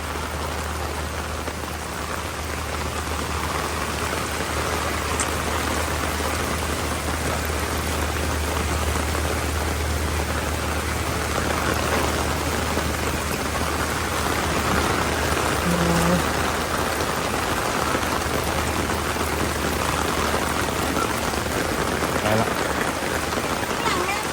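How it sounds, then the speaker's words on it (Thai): Steady heavy rain pours onto surfaces for the whole stretch, a dense, even hiss of raindrops that stays close and constant, with a voice now and then underneath. "ฝน"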